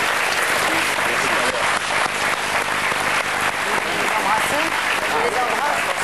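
A studio audience applauds Chantal, who is playing Oscar at a gymnasium, with loud, sustained clapping from a crowd close by that continues without a break.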